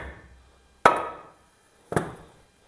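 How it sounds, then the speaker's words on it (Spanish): A nylon hammer delivers two sharp, dry blows to a crankshaft during engine assembly, each strike ringing briefly and decaying, about a second apart, with no voices. "le pegaríamos con un martillo de nylon, un golpe seco en el telado"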